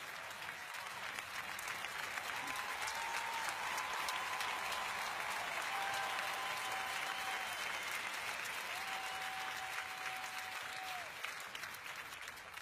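Sustained audience applause and cheering fill the room for competitors, a dense steady roar of clapping with a few rising whistles or whoops, continuous and fairly even throughout.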